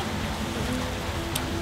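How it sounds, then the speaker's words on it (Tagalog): Afternoon rain falling outside a cellar door in Sagada, a steady soft hiss of drops on surfaces throughout, with no voices. "umuulan na naman"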